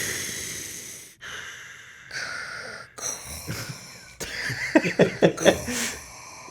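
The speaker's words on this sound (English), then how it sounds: "Vader's breathing, iconic breathing." Darth Vader's iconic mechanical breathing from Star Wars, recorded by a sound designer in a scuba mask, is heard alone as slow, raspy, hissing inhales and exhales repeating in steady cycles.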